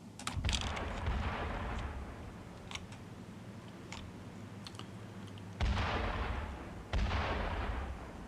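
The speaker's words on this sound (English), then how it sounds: "the mortars are now ready to fire, so I can now just go and tell them to start to fire" Mortar batteries firing in the Armored Brigade 2 war game: broadband booms and rumbling blasts, with two sharp heavier reports near the end over a continuous low battlefield rumble, no voices.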